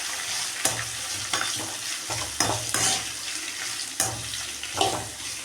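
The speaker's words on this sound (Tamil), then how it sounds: "கட் பண்ணி வச்ச பச்சை மிளகாய், ஆனியன் ஆட் பண்ணி நல்லா மிக்ஸ் பண்ணிக்கோங்க." Sliced green chillies and onion fry and get stirred in a pan, steady sizzling broken by several distinct scraping stirs of the spoon at irregular intervals.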